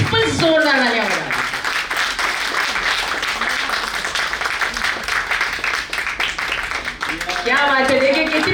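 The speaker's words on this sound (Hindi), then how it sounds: "बड़ा इस पर जोरदार तालियां बजाएं।" An audience claps loudly and steadily at an award felicitation ceremony, the applause running throughout while someone speaks over it at the start and end.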